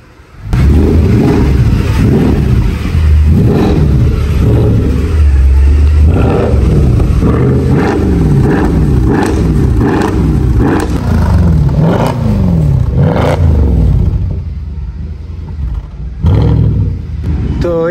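Mercedes C63 with an 1800 cc engine revved repeatedly while stationary, a loud close run of rising and falling roars with a rough mechanical edge, settling into a lower idle near the end, no speech.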